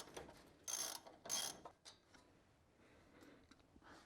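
A ratchet turns a small bolt off a control arm bracket on a 2019 Toyota truck during an ICON Stage 8 front suspension install with billet aluminum upper control arms, giving two loud bursts of quick clicking and then quieter faint ticks.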